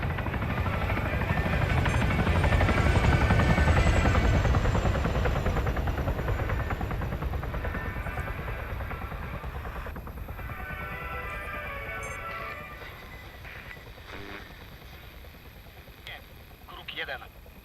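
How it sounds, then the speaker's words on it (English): A helicopter in the video game Arma 3 flies overhead, a loud rotor thump and rumble that fades slowly as it passes, with voices talking over it. "You hear that? Sounds like a helo."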